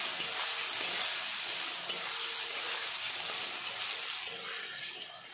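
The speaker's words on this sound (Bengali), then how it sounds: "নুন, আর একটু সামান্য হলুদ দিয়ে আলুটা ভালো করে ভেজে দেবো" Potato pieces frying in hot oil with salt and a little turmeric, a loud continuous sizzle with occasional stirring scrapes, heard up close and steady throughout.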